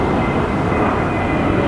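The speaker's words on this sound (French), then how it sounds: "Ah ben quand c'est pas les voitures, c'est l'autre avion." An airplane passes overhead, a loud, continuous broadband roar with a steady droning hum, heard without speech.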